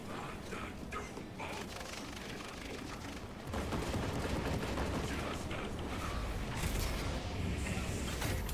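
Gunfire from a bolt-action rifle in a shooter video game, heard as a steady, fairly quiet wash of mechanical clatter and shots that grows louder and denser partway through.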